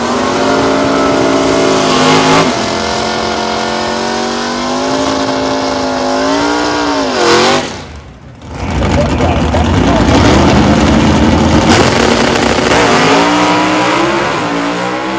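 A 1964 Ford 427 Thunderbolt FE big-block in a four-speed Super Stock drag car revs hard and loud, climbing through sweeping pitch rises, dropping off briefly, then roaring back up close by.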